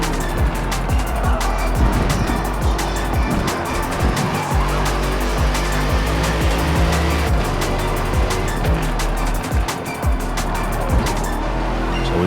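A BMW M8 GTE race car lapping Brands Hatch in a racing video game, engine droning steadily close up throughout, with repeated gear-shift blips and bursts of tyre squeal over a constant roar.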